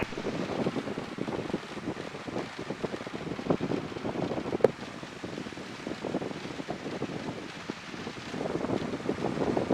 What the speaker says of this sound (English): the wind is kind of all over the place here